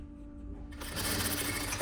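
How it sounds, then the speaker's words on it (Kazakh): Close sewing machine starts up while stitching a vest, a faint hum giving way to a loud, steady rapid stitching rattle lasting about a second. "Осылай қолдарыңызбен тартып отырып тігіп шығасыздар"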